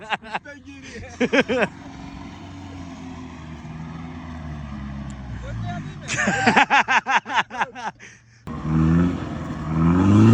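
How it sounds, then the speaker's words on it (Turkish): A Mitsubishi L200 pickup up on a plateau revs hard while reversing, engine note rising and falling under loud nearby talk and laughter, with a sharp stutter of pulses midway. "Bu hışımla nasıl geri atıyor arabayı direkt."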